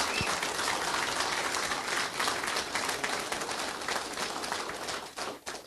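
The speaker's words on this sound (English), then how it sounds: "Again, a round of applause for these young people." A large crowd applauds steadily, a dense sustained wash of clapping that thins out near the end.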